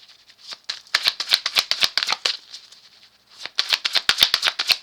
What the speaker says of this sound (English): Y'all saw me shuffle the cards